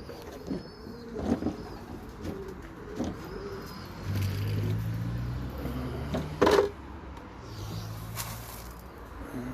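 Pigeons cooing in their loft, low repeated coos rising and falling in the middle of the stretch, with soft rustles and a few sharper knocks around them.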